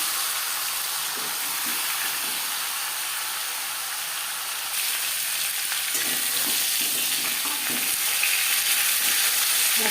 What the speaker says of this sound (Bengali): যেহেতু আমার কড়াইটা বড়, তাই আমি একবারেই ভেজে নিলাম।